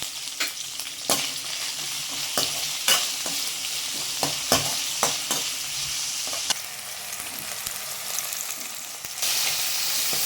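Okra (ladies finger) sautéing in oil, a continuous hiss of frying broken by repeated sharp scrapes and clacks of a spatula stirring the pan, close and alone without talk.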